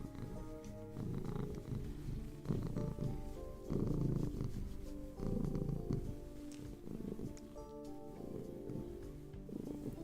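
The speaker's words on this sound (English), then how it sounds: "Yeah, he's a happy, happy cat." A contented pet cat purrs close to a microphone, a steady rumbling purr with rhythmic swells as it breathes in and out, continuous and fairly loud throughout with no talking.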